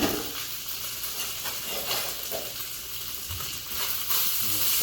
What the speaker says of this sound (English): Saute a little bit.